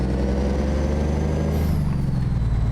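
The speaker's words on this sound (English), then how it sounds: "I put the trusty old 444 back in here. which actually sounds great in this truck" A loud, close Kenworth K100E truck engine in American Truck Simulator drones steadily with low rumbling harmonics, and a brief high hiss like an air brake cuts in midway.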